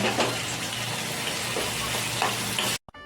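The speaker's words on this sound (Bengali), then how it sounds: "প্রথমে একটু ভালো করে একটু নেড়ে চেড়ে একটু ভাজা ভাজা করে নেব।" Potato, eggplant, onion and green chili fry in oil, a loud continuous sizzle with stirring scrapes, cutting off abruptly near the end.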